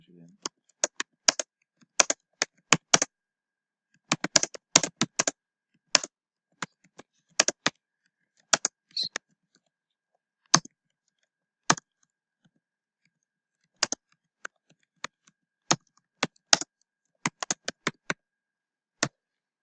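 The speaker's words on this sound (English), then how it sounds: "now I'll just type it out again" Someone types on a computer keyboard in a quiet room, crisp close key clicks arriving in irregular bursts and short runs separated by brief pauses.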